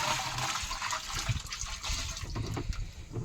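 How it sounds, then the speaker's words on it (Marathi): Water and pesticide gush and splash steadily into a tank in a pomegranate orchard, a continuous rushing pour. "हे राहिलं आपलं पाणी आणि हे पडलं औषध"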